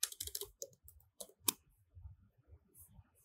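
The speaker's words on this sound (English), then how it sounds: "type in your text" Text being typed on a computer keyboard, a quick run of light key clicks followed by sparser, softer taps, close and alone.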